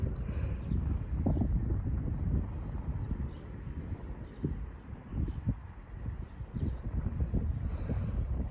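Wind in a wind storm buffets the microphone in uneven, rumbling gusts that swell and fade across the whole stretch, fairly faint overall.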